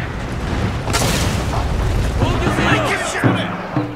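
Massed unit fire in the strategy game Total War: Shogun 2, a heavy booming volley followed by rolling crackles and further thuds of battle, with a voice talking over much of it.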